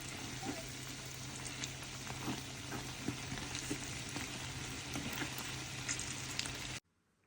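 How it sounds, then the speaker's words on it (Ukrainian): Pirozhki frying in oil in a pan, a steady close sizzle with small crackles and pops throughout, fairly quiet and alone, cutting off abruptly near the end. "Наші пірішки вже 10 хвилин постояли, ідемо їх смажити."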